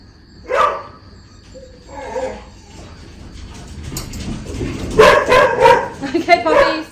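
Puppies bark and yip close by in short sharp bursts, one early, another soon after, then a busy cluster of rapid overlapping barks near the end.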